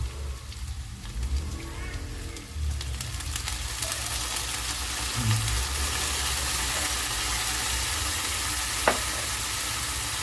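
Pork fries in a pan right after soy sauce is poured in, giving a steady, dense sizzle and crackle close up, with faint stirring scrapes and no clear talking over it.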